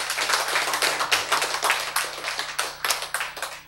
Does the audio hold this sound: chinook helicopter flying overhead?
no